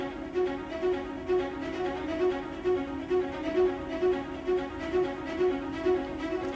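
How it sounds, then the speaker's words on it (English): Spiccato violas play a short, bouncing ostinato, repeating a steady, even rhythmic pulse of detached notes at moderate volume. No voices are heard. "And along with that, we've got the spiccato violas."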